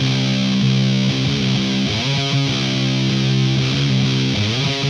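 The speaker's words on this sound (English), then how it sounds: "this new distortion pedal that I got recently. It's called a Boss Mega Distortion." An electric guitar played through a Boss Mega Distortion pedal, a thick, heavily distorted tone with sustained chords and shifting riffs, loud and continuous with no talking.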